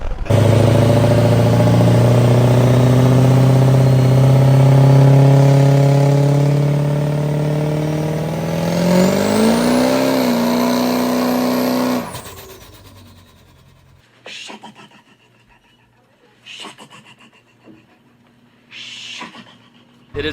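A Ford 6.4 Powerstroke diesel dually tuned to 600 horsepower roars loudly at high revs for about twelve seconds, pitch climbing, then cuts off abruptly, leaving faint intermittent bursts of noise.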